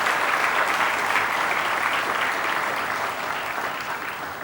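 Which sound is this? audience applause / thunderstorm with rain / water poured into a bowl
audience applause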